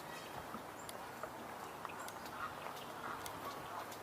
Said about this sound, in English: So actually a number of Canada geese here, all over the place.